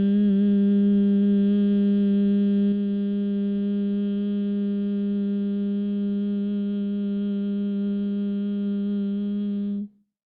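Brahmari breathing hum imitating a bee, one steady loud voiced drone held for about ten seconds with rich harmonics, then stopping abruptly; no speech.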